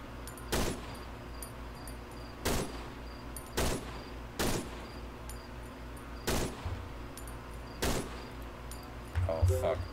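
Video game gunfire: single loud sharp shots, about seven spaced a second or two apart, close and punchy, over a low background hum.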